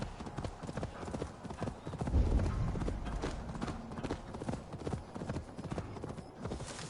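Horse hooves clip-clop in a steady, close, rapid rhythm throughout, a ridden horse in Assassin's Creed Valhalla, with a brief heavier thump partway through and faint speech under the hoofbeats.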